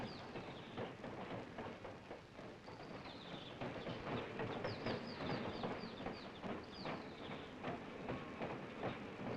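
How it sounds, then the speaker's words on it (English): A huge diesel train engine pulls in with rumbling and rhythmic clatter, high squealing chirps from the wheels and brakes running over it, at moderate distance. "Then the huge engine pulls in."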